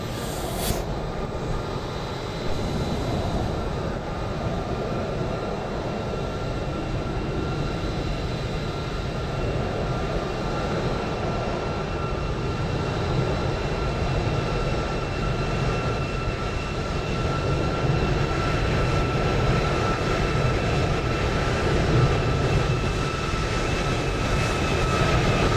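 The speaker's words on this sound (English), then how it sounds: "And then it is the departure of the Emirates" An Emirates A350 jet departs in Microsoft Flight Simulator 2020, a loud, steady engine roar with a thin high whine that holds constant for the whole stretch without voices.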